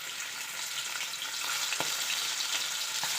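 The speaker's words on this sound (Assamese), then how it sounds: "এতিয়া মাছখিনি অলপ অলপকৈ ভাজি লওঁ।" Prawns frying in hot oil in a wok make a steady, close hiss of sizzling, with a couple of faint stirring clicks breaking through near the end.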